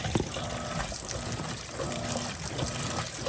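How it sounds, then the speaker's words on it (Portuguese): Steady rush of water filling the drum of an Electrolux LTP15 15 kg turbo top-loading washing machine, a continuous trickling pour with a faint pump-like hum running throughout, with no talking. "E agora ela vai encher até atingir o nível."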